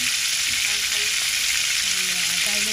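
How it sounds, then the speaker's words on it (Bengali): Garlic and onion fry with cumin in oil for a dal tempering, a loud, continuous close-up sizzle with an even hiss and faint faraway background sounds beneath it. "রসুন পেঁয়াজ ভাজা হয়ে গেছে"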